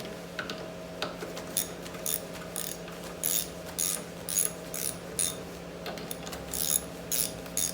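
A ratchet clicks in short repeated bursts while loosening the intake on a Honda GX160 small engine, the close mechanical ratcheting coming in uneven strokes over a low steady hum.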